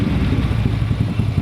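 A motorcycle engine idles after a carburetor adjustment, a low steady mechanical rumble with a fast even pulse, close and fairly loud, heard alone for a brief moment.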